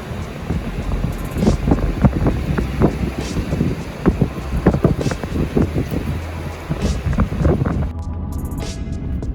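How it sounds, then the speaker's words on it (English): Strong gusty wind buffets the microphone with loud, rumbling roars that rise and fall continuously throughout. "is super windy out here today."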